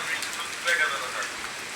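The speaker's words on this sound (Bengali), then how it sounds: "প্রচুর পরিমাণে মুষলধারে বৃষ্টি হচ্ছে" Heavy torrential rain falls in a steady, close hiss, drumming evenly on surfaces for a brief stretch.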